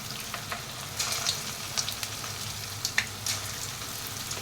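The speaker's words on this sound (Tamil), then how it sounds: "இப்போ நம்ம இதை வந்து ஆயிலில் போட்டு ஃப்ரை பண்ணி எடுத்துடலாம்" Spinach fritters made with gram flour fry in hot oil in a kadai, giving a continuous sizzle with small crackling pops.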